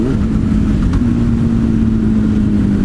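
A vehicle engine hums steadily while riding, a loud continuous low drone with a slight pitch shift partway through and constant road and wind noise, no talking.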